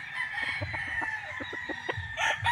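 Gilmore Hatch stag crowing nearby, a loud drawn-out cock-a-doodle-doo over a background of clucking and rhythmic pecking taps from other fowl, with another call rising at the end.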